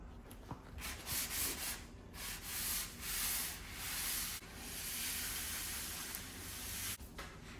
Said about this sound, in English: We're going to give everything another little wipe down